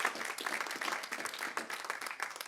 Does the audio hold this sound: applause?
yes